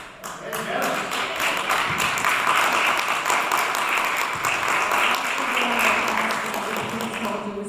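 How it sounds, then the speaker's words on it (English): Audience applause at a town council candidates' forum in Morristown, a steady wash of many hands clapping that stays loud throughout, with no voices over it. "Please hold your response, your applause, so that we can move along quickly."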